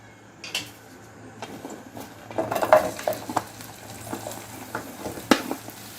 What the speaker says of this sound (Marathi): आपल्याला प्रथम भेंडी फ्राय करून घ्यायची आहे।